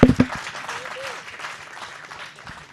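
A conference audience at a business commitment launch applauds, opening with a few sharp close claps and a short voice, then settling into a soft, steady patter of clapping that fades slightly.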